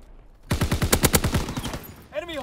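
Rapid burst of video game gunfire, about a dozen shots in quick succession that fade toward the end, followed by a brief voice.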